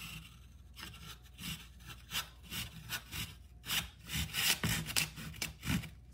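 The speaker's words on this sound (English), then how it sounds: "if you're trying to get a relatively straight cut, the hacksaw does a wonderful job" Hacksaw cutting through a piece of cuttlebone for a mold, a rough rasping stroke repeated back and forth in an uneven rhythm, close up and moderately loud, with no voices.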